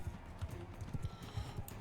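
Horse hooves clip-clopping in the video game Mount and Blade 2 Bannerlord during a tournament, a quiet, irregular patter of hoofbeats under faint background noise.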